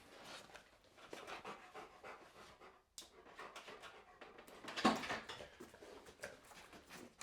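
A dog pants in quick, breathy bursts close by, rapid huffs that run steadily with a brief pause and a sharper rustle in the middle, and no talking over it.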